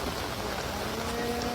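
Steady rain falls close by in a comedy sketch, a continuous even patter with no voices heard over it.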